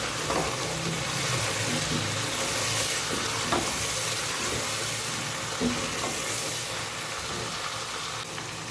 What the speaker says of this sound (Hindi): तो मिर्चें डाल के थोड़ा सा मैंने इसको भूनना है तकरीबन 30 सेकेंड तक।